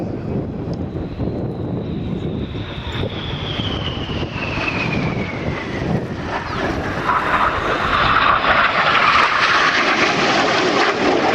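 Aerobatic display aircraft in formation at an Old Warden flying festival, a loud engine roar sweeping past with a falling pitch, then swelling louder near the end amid wind buffeting.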